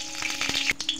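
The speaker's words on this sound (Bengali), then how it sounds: "কড়াইতে তেল দিয়ে দিলাম ঢেলে" Cooking oil sizzles in a wok (kadai) while making a chicken curry, a brief close hiss with a few crackling spits, heard alone without speech.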